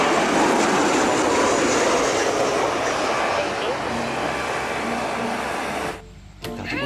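An airplane in a shooting video game gives a loud, steady roaring drone that carries on for about six seconds and then cuts out abruptly.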